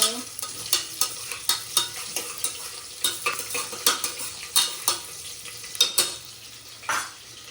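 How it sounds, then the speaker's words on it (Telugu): Frying onions are stirred in a pan, a close, repeated scrape and clink of a utensil against metal roughly every half second over a low, steady sizzle. "ఆనియన్స్ వేసేసుకొని మళ్ళీ మంచిగా మిక్స్ చేసేసుకుంటే"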